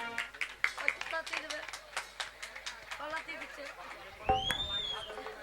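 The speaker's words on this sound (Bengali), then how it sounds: "একটা হাততালি।" A crowd at a Bengali comedy stage show claps in a quick run of sharp claps, with people talking over it and a louder burst near the end.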